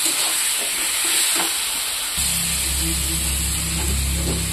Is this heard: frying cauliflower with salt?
yes